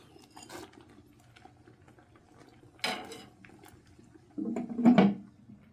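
A pot lid set back down on a brew kettle during a Belgian Tripel boil, giving a short metallic clatter and scrape near the end, preceded by a brief rattle and soft kitchen noises.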